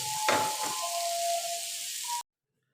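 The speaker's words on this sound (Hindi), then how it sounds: "टमाटर डाल के थोड़ी देर भूनेंगे ताकि ये सॉफ्ट हो जाए" Tomatoes sizzle steadily in a hot pan, a continuous close frying hiss with a few brief stirring scrapes near the start, then cutting off abruptly.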